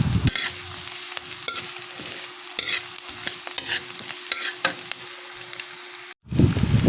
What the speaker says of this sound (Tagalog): Patuloy po natin sasangkotsahin ang ating onion at ang garlic hanggang sa ang mga ito ay maging brownish at maging napakabango